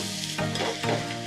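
Grated raw mango goes into a sizzling fish curry, a steady close frying hiss with brief stirring scrapes across a short moment, and no talk.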